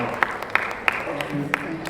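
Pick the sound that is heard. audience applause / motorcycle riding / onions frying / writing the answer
audience applause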